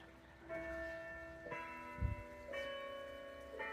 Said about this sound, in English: Of course, the bells are going off.